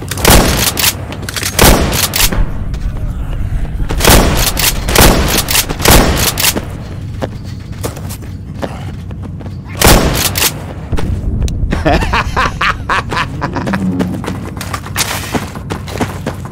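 Repeated gunfire and heavy booms in the Left 4 Dead 2 zombie game, with loud bursts clustered every second or two across the clip, some pistol-like cracks amid dense battle noise.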